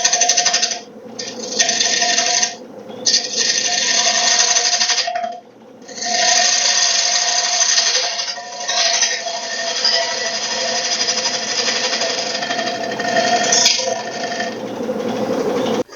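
Maple and walnut wooden bowl spinning on a lathe as a tool cuts into its rim, a steady close whirring scrape broken by a few short pauses, with a voice speaking at times.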